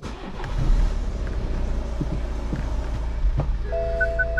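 A BMW with an N47 diesel engine, just fitted with a new clutch, fires up into a steady low rumbling idle that holds close and even.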